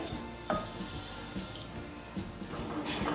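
Water poured from a cup into sugar in a cooking pan while making syrup for instant jalebi, a soft continuous splashing trickle lasting a few seconds, fairly quiet and close.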